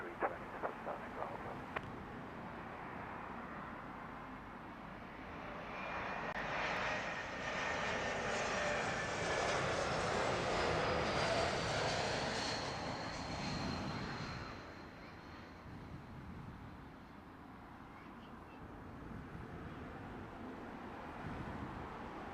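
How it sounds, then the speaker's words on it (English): A Swiss jet airliner lands at London Heathrow, its engine roar swelling to a loud peak mid-pass with a high whine, then fading, heard from a distance over steady outdoor background noise. "Looking like a little miniature A350. Funky looking little jet."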